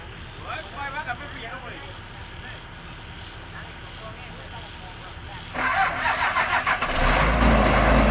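Sugarcane harvester engine cranking and catching after quiet background with speech, then settling into a loud, rough mid-pitched roar that grows louder toward the end.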